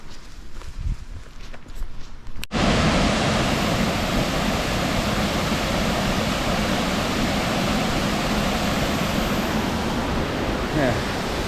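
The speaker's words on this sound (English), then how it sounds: "Yeah, beautiful waterfall." A waterfall on a creek along the Appalachian Trail roars in a dense, steady wash of noise, loud and close, after a couple of seconds of quieter trailside sound with footsteps.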